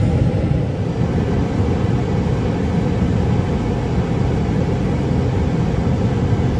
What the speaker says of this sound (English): you guys can hear the air conditioning too.